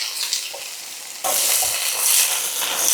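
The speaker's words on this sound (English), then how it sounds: "I'm going to keep stirring these until this gets tender" Beef, onions and broccoli frying in a pan, a quieter sizzle suddenly swelling into a loud, close, continuous crackle as the food is stirred and tossed, with no one talking.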